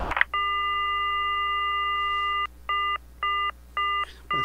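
A telephone in the Silent Hill video game sounds a long electronic tone, then four short evenly spaced beeps, clear and close with no talk.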